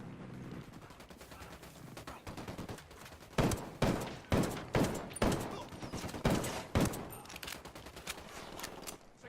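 Gunfire from the tactical shooter Ghost Recon Wildlands: a steady rattle of shots opens into a series of loud, sharp bursts of weapon fire spaced about half a second apart, close and dominant with no talk.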